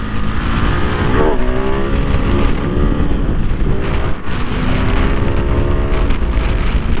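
A KTM 690 SMCR supermoto motorcycle being ridden, its single-cylinder engine loud and close, with steady engine drone and pitch rising and falling through gear changes.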